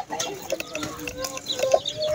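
Laying hens cluck in a farm coop, with repeated short clucks and a rooster-like call among the birds, fairly close and steady throughout.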